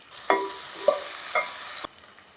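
Ginger garlic paste goes into a hot pan, giving a soft sizzle with three sharp scraping stirs of a spoon before cutting off abruptly.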